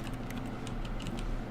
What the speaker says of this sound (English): I like that it makes like the keyboard noise when I click.